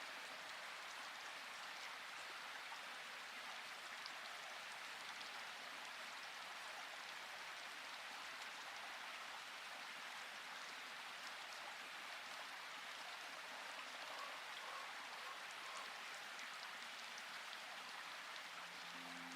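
Soft, steady rainfall hisses evenly throughout, faint and distant with no distinct drops standing out and no voices.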